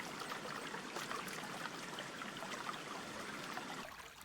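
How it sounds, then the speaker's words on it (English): Water sloshing and trickling as material is washed out of a gold pan, a continuous close wet rushing with no voices, cutting off sharply near the end. "we'll just pan away the material"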